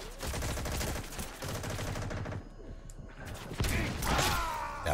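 Gunfire in a video game firefight: loud, dense bursts of shots and clattering mechanical action run almost continuously, with a brief lull midway before heavier reports return, and no talking.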